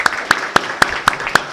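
At an Indian industry conference, a round of applause begins for a government minister, heard as six sharp, evenly spaced claps close by, ringing out in a steady rhythm.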